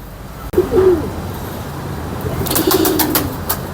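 Soft, low cooing of Sialkoti pigeons in two short bursts, with faint rustling and a few sharp high clicks toward the end.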